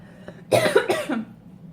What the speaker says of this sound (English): I've been coughing a lot lately and sneezing a lot lately